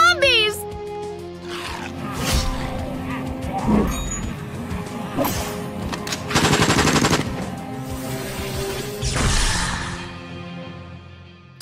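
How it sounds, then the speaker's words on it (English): Rapid bursts of automatic gunfire with loud single shots in the zombie video game Puzzles & Survival, mixed with shouting voices and game sound effects. "Our gunshots are drawing in more zombies!"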